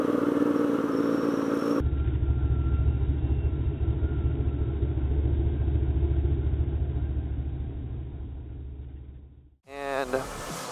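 Porsche sports car engine, a loud low rumble that holds steady, then fades away before a short burst of sound near the end.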